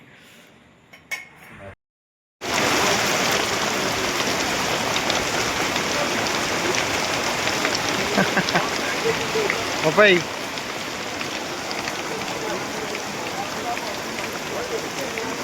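Heavy torrential rain pours down in monsoon weather, a loud, steady, dense roar that begins abruptly after a brief quieter opening with a voice, and then continues unbroken with faint talk in the background.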